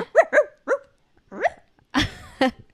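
Dogs barking in a residential neighbourhood: a quick run of three sharp barks, then a pause, a lower bark, and two more louder barks close by, with no talking.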